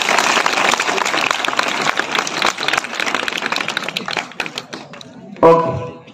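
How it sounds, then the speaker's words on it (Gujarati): Ninth-grade students clapping at a Saturday school assembly: dense, steady applause for about five seconds that thins out and ends with a single dull thump. "તાળીઓ પાડી ભાઈ, પાર્થભાઈ બહુ મસ્ત તૈયારી કરાવી ભાઈ."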